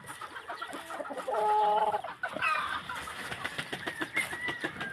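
Several chickens cluck and squawk close by, with a rooster's drawn-out call rising midway among the busy farmyard chatter.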